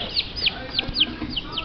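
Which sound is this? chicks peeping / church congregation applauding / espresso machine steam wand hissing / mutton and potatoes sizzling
chicks peeping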